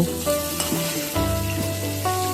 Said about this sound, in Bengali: এবার এপিট ওপিট করে মাছগুলো ভেজে নেব।